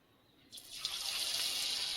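Banana flower pakoras drop into hot oil, and a sudden bright sizzle starts midway and keeps crackling steadily at moderate loudness, with no talking.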